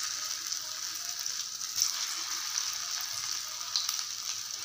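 Kola urundai balls fry in hot oil on a low flame, a steady close sizzle with soft bubbling and occasional small pops, continuous and even throughout with no talking.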